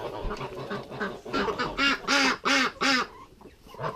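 Several loud, close duck quacks come in a quick run of nasal honking calls, with quieter rustling and calls around them.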